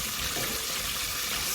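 Buttermilk fried chicken sizzles in hot frying oil, a dense, steady crackling hiss that holds evenly throughout without any talking.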